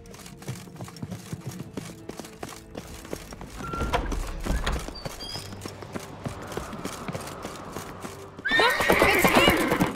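In the video game The Witcher 3: Wild Hunt, hooves clip-clop in a steady rhythm, then a horse lets out a loud, high whinny near the end, all close and without speech.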